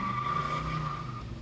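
A car engine rises in a tonal whine as the clutch grabs and the driver accelerates hard, a close, steady pull lasting the whole moment without talk.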